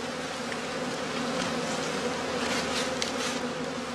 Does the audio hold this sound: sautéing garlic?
no